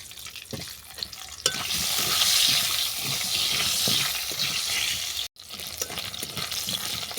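Cut potatoes sizzle steadily in oil tempered with dried chilli and five-spice seeds, a loud continuous hiss with clatter of stirring, briefly cut off near the end before resuming.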